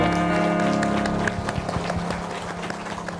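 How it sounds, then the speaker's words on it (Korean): Church congregation clapping in thanks during an anniversary worship service, a dense patter of hands rising after a sustained organ chord fades, moderately loud and steady before tapering off. "우리 하나님께 감사의 박수 올려드리겠습니다"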